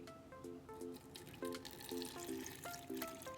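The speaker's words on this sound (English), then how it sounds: "1 cup of apple cider vinegar. We're gonna add in here. And I have to be careful that I don't make a big splash." Apple cider vinegar is poured carefully into a container, a quiet liquid trickle with light dripping and splashy plinks in an uneven rhythm, close by and faint, with no talk.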